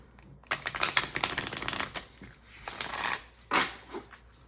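An oracle card deck is shuffled in quick, dense bursts of crisp riffling clicks, with short pauses between them. The sound is close and fairly soft.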